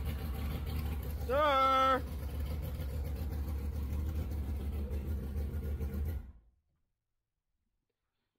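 A two-stroke engine on a home-built speed boat cranks and starts on its first time in the water, giving a low steady idling drone that cuts out abruptly near the end, with a brief voice at the start.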